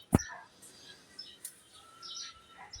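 Birds kept in a home bird house give a few faint, scattered chirps and calls against quiet background noise, with no talking.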